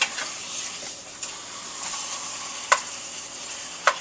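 Large pork ribs cooking in ale sizzle steadily in a pan, a close continuous frying hiss broken by a few sharp clinks as the ribs are turned over, no talking.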